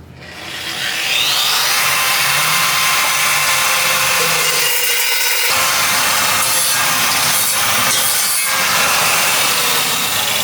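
A saw cuts straight across the top of a wooden neck for a piano-playing robot, giving a loud, steady rasping that runs nearly ten seconds with a brief dip near the middle.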